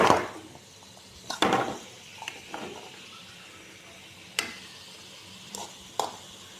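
Onions stirred with salt while sautéing in a pan, a faint sizzle underneath with several sharp scraping knocks of a spoon against the pan at irregular intervals.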